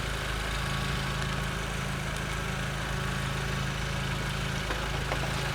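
A car engine idles steadily at normal running during a fuel pressure and lambda probe check, a constant low hum with a mechanical drone and no voices.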